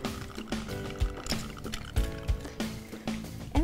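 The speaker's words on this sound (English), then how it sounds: "And then we're gonna add our alcohol, which is the cake vodka." Cake vodka, two ounces, poured into a mixing glass with ice for a creamy chocolate raspberry cocktail, giving liquid splashing and clinking ice with several soft knocks over a few seconds, close and fairly quiet.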